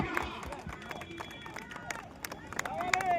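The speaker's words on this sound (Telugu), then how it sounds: "ఒక్కసారి గట్టిగా క్లాప్స్ కొట్టాలండి గట్టిగా" A crowd claps at a boat race on the Godavari at Atreyapuram, a scattered, uneven patter of hands under a voice speaking over it.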